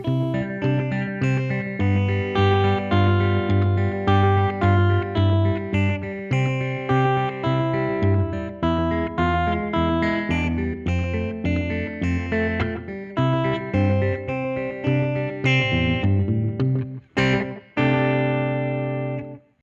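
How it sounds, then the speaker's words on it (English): An electric guitar played fingerstyle on a Telecaster's middle pickup with a clean tone and light delay, picked notes and chords ringing continuously with echoing repeats. "let's hear how a fingerstyle clip sounds with just using a Telecaster middle pickup and a little bit of"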